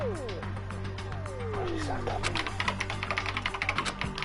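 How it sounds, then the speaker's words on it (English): Computer keyboard typing in the background, a rapid run of loud clicky keystrokes that follows a brief swooping sound effect. "Baker, you heard that keyboard typing, right?"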